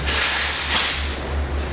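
Spray gun hissing as it lays lacquer onto cabinet door faces, a steady close airy spray that fades slightly toward the end, with a low hum beneath.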